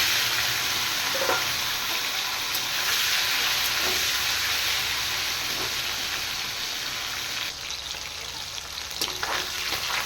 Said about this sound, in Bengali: এবার আমি মাছের মাথাগুলো হলুদ নুন মাখিয়ে নিয়েছি এবার একবারে ভেজে নেব